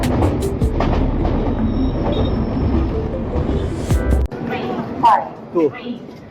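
Inside a railway carriage on a Howrah to Varanasi train, the wheels give a loud steady rumble and rattle on the rails that cuts off abruptly, then a person speaks over quieter background.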